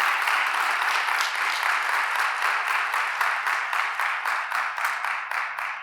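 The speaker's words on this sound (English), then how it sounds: "Let's give him one more round of applause." Full audience applause for Chairman Will Smith at a Maryland gun-safety initiative launch, a dense steady roar of clapping that slowly tapers near the end.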